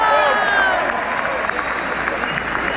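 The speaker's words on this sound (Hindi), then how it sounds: "इनके लिए भरपूर तालियां।" Supporters at a PTI political rally in Washington applaud loudly, a dense continuous roar of clapping with scattered cheers and whistles over a voice on the sound system.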